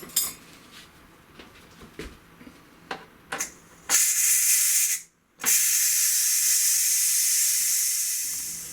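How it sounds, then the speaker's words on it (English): Loud, steady steam hiss rushes from a Ninja Foodi Max pressure cooker full of pulled pork, following a series of sharp clinks and knocks, with one brief pause before the hiss resumes and slowly fades. "Just be cautious of all the steam which is still within there."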